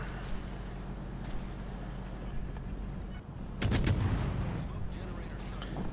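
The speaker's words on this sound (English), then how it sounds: "the destroyers decided to start shooting at me" Naval gunfire from enemy destroyers in World of Warships, heard from a Japanese tier V Fubuki destroyer: a steady engine-and-sea rumble, then a sudden loud volley of booming shots partway through.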